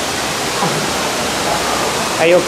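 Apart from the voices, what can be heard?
waterfall, Bali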